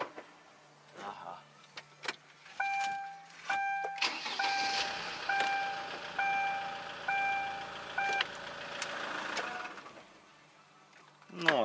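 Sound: engine of a Chinese vehicle rattling, problem with transmission or clutch

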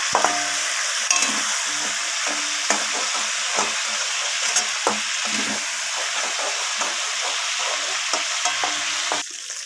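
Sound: chicken pieces frying in oil

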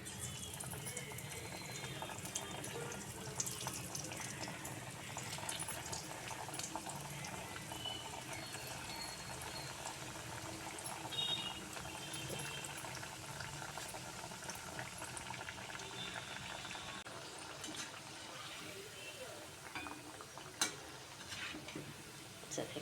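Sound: bottle gourd vadis deep frying in hot oil

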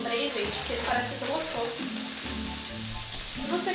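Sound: vegetables frying in pan for vegetarian yakisoba

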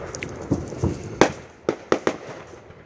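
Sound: M80 firecrackers and fireworks exploding outside

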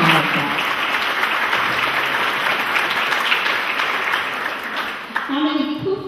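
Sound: applause

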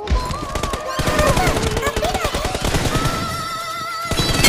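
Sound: gunfire in BGMI video game

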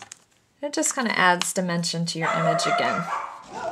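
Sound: dogs barking

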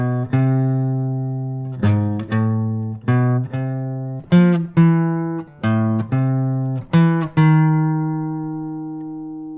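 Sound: Verse first phrase of a theme played on acoustic guitar

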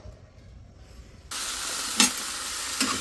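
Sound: food frying in a pan

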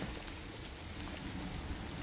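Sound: rain

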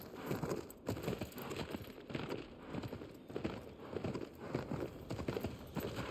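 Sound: horse hooves in Shadow of the Colossus video game

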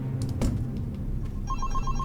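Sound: telephone ringing in a SpongeBob prison horror video game

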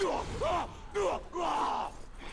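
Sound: enemies screaming in video game Middle-earth: Shadow of Mordor

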